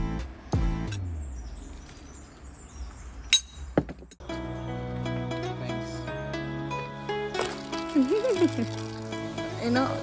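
Glass soda bottles clink in sharp, scattered bursts at a busy soda stall near a beach in Dharmasthala, set against the faint background bustle of the market.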